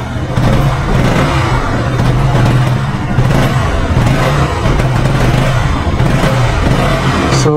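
A 2024 KTM RC 200 motorcycle engine idles and revs loudly up close, with repeated throttle blips rising and falling over a gritty mechanical clatter and brief background talk.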